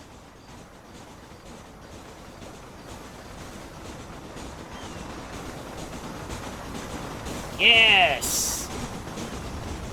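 A train rumbles past in a Red Dead Redemption game, a steady rolling noise that builds gradually, then a sharp whistle-like tone near the end alongside a short shouted word.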